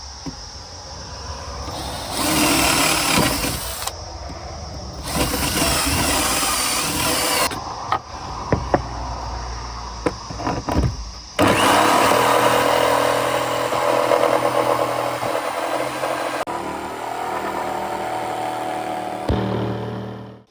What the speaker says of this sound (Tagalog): Yeah, the drill first.